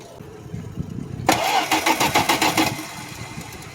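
A 1972 Plymouth engine cranking on a cold start after sitting without fuel pressure: a quiet lead-in, then loud rhythmic starter chugging with about eight evenly spaced turns before it cuts off.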